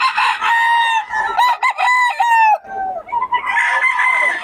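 Loud, close rooster crowing in repeated drawn-out calls with chickens clucking between them, from fowl at a poultry seller's from Batangas; talking is faintly present in the background.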